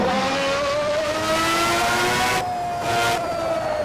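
An F1 car in the Assetto Corsa racing game, driven at Suzuka: a loud, continuous high-pitched engine wail that climbs through the revs, dips briefly at a gear change, then surges again, heard alone.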